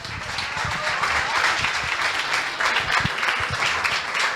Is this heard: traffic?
no